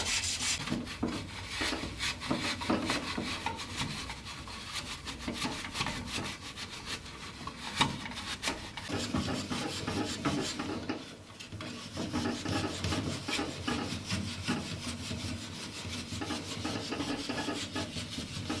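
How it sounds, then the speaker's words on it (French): A 1960s Louison Bobet Spécial Tour de France bicycle's rusty rim and spokes are rubbed with Belgum, producing a continuous close scratchy rubbing with uneven back-and-forth strokes throughout. "donc là on va passer le Belgum, passer un petit coup sur les rayons aussi"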